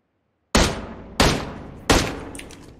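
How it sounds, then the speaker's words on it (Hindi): An AKM assault rifle in a shooter video game fires three sharp, loud single shots about two-thirds of a second apart, each trailing off in a short reverberant decay. "भाई फायरिंग हो रही है"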